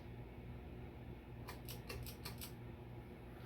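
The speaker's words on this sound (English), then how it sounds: "the noise you hear in the background is a fan I'm working on in the background" A low, steady hum from an electric fan under repair drones throughout, faint and continuous, with a short burst of light clicking ticks partway through.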